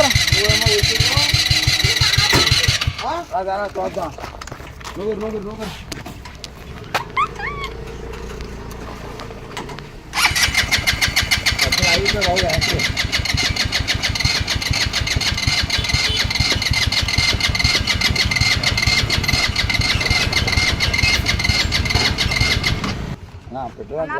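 A new jeep's engine cranks and then catches at about ten seconds, running loud and steady for the rest of the clip; voices are heard near the start.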